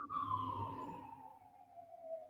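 A single siren tone sounds in a video game, starting high and sliding slowly downward in pitch as it fades, faint and distant over a low background hum.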